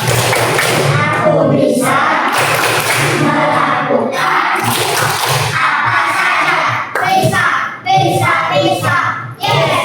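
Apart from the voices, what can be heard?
class doing a rhythmic spirit clapping routine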